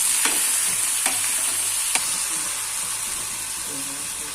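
A spoon stirs dal with turmeric and salt in a pot, giving a steady soft sizzle with a few sharp scraping clicks against the pot, close and continuous without talk.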